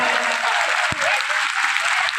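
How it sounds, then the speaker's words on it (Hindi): A large crowd at a Hindu Ram Katha religious gathering in Panipat applauds, a loud, continuous wash of clapping with a brief low thump partway through. "भाई तालियों में कमी लग रही है आप लोगों"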